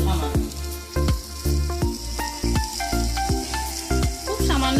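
Pointed gourd fries in hot oil with a dusting of turmeric, a loud continuous sizzle punctuated by regular scraping strokes of a spatula as the pieces are stirred.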